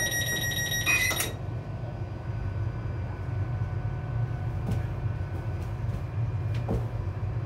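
Doors on an LNER Azuma train close with a high beeping warning tone followed by a couple of soft thuds, all over the steady low hum of the carriage.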